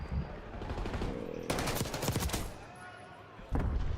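Rapid automatic gunfire rattles through a video game gunfight, a dense burst mid-clip and another at the end, heard beneath a commentator's voice.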